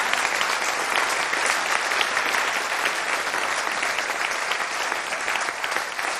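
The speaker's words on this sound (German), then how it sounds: "Ein super Applaus." Dense, steady applause from a theatre audience at a German talk show event, a full crowd clapping loudly and continuously without a break.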